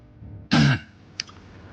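A man gives one loud, harsh cough in a quiet room, followed moments later by a faint short click.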